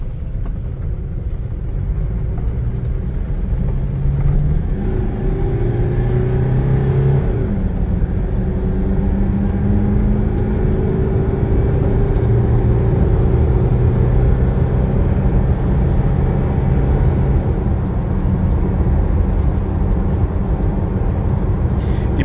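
A car with an automatic transmission accelerates on a rough test track, its engine droning steadily with rising whines as it picks up speed, heard close from inside, with road rumble and no talk.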